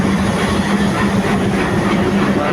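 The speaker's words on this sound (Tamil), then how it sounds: "எங்களோட டீசல் ட்ரெயின்" A diesel passenger train on the Kanniyakumari to Chennai Egmore route passes close by, a loud steady rumbling roar with rhythmic wheel clatter throughout.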